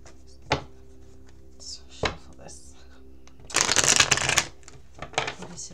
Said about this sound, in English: but I'll just shuffle on camera so you can see.